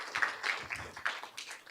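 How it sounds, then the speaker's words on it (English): Soft, dense applause from a modest crowd at a board of education work session, for a student advisory group; faint, steady clapping at a distance with no talk over it. "give our student advisory group a round of applause"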